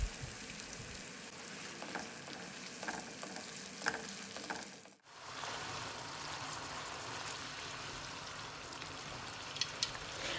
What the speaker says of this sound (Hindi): इस टमाटर पेस्ट को भी हम इस मसाले में ऐड कर देंगे।